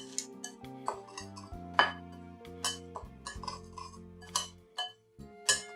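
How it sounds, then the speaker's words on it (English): A spoon knocks and scrapes against a bowl while graham cracker crumbs are mixed with butter for a pumpkin cheesecake crust, giving irregular close clinks and taps over a faint musical bed, with no speech. "mix this together with our butter"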